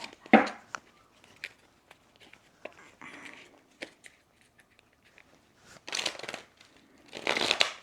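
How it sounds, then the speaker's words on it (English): Oracle cards shuffled by hand in a home reading setting, giving sporadic soft riffling and rustling bursts, with louder flurries near the start and end and quieter card handling between. "I'm just trying to shuffle it"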